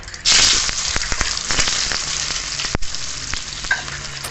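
Potato pieces and a bay leaf hit hot oil in a pan with a sudden loud sizzle, then settle into a steady close crackling fry with occasional stirring clatter.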